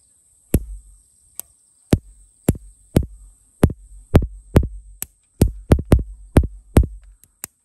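The ignition spark on a Power King garden tractor jumps at the spark plug with a screwdriver stuck in it, making about fifteen sharp, close snapping clicks at an irregular pace against near silence.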